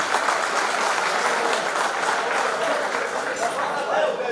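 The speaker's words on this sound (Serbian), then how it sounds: "ja vas molim za jedan veliki aplauz da pozdravimo ovu divnu ekipu muzičara iza mene" An audience at a formal annual assembly applauds the musicians on stage, giving a dense, steady wash of clapping that holds for the full stretch at fairly loud volume.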